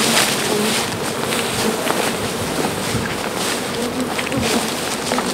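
Honey bees buzz steadily in a dense, continuous hum, with a soft breezy hiss blending into the swarm.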